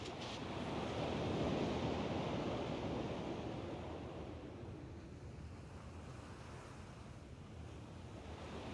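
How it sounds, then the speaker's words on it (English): Ocean waves washing onto a shore in Kingdom Hearts 2, a soft continuous surf swelling and fading with a breezy hiss, faint and steady with no voices. "At least the waves sound the same."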